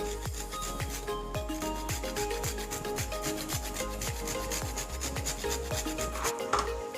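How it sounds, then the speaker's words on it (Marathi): A large whole nutmeg being grated by hand for a Marathi karanji filling, giving a quick, even run of dry rasping strokes repeated steadily, close-up with no talking. "नंतर हे जायफळ जे आहे मोठ्या साईजचं आहे, त्यामुळे मग मी थोडंसं ते किसून घेते."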